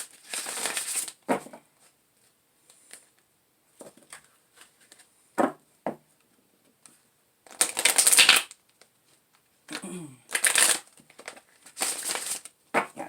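Sticky tarot cards being shuffled in short bursts of papery riffling and crinkling, separated by quiet pauses, close and fairly soft with no talking.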